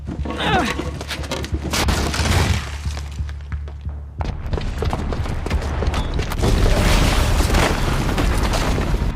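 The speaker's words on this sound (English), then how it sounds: "the booby trap on the bomb downstairs is gonna get set off" A booby-trapped bomb goes off in the video game Horizon Zero Dawn, with heavy booming blasts, shattering debris and crashing rubble building into a loud, sustained roar of destruction.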